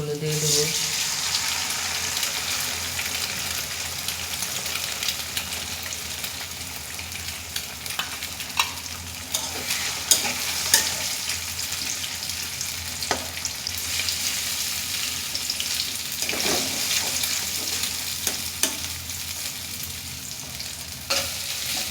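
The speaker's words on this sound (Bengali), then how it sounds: "ডিমগুলো কিছুক্ষণ ভেজে নেব।" Eggs frying in a pan with onions for noodles, a steady hissing sizzle with stirring and scraping clicks throughout, close and fairly loud.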